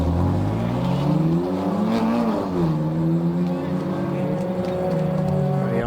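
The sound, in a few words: race cars in the pit lane at Donington Park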